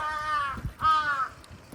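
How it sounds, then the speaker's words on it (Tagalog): Two harsh, raspy caws from a crow, one after the other, fairly close, with a little background noise between them. "May uwak, boss."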